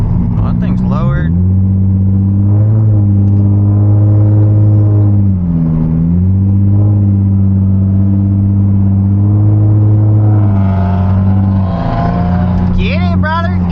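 A lowered Subaru accelerates hard while racing, its engine droning steadily near and loud with rising and falling pitch across the gear changes, and people talk over it.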